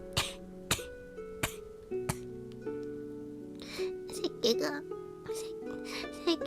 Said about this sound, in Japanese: 咳が出始めると止まらなくなって